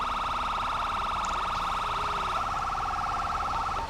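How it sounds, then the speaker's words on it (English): Fire engine siren in a firefighting video game, a loud, continuous electronic wail with a rapid warble that shifts tone about midway, with a voice talking over it. "if you use your scroll wheel down, you can then change what type of siren you want"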